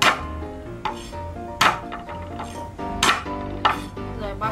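A knife smashes and minces chopped ginger on a cutting board in a home kitchen, giving five or so sharp, irregular thuds over steady background music.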